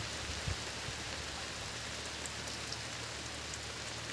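Steady rain pours down outdoors over flowers and succulents, a dense even hiss of drops striking leaves and surfaces throughout, close and continuous with no voices.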